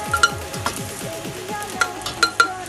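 Garlic and onion frying in a pan for tortas ahogadas, with soft sizzling and crackling pops plus occasional utensil clinks and stirring, no talking.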